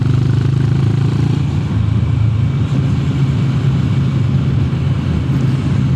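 A Honda GB 350 S single-cylinder motorcycle engine runs at a steady, low rumbling idle, close and even, with a smooth continuous thrum and no voices.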